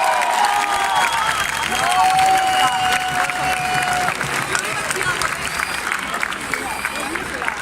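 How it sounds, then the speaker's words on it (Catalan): A rally crowd applauds youth council speakers, with sustained clapping and some cheering filling the space loudly and steadily from start to finish, a sharp whistle-like tone sliding through early on. "Un fort aplaudiment per tots ells."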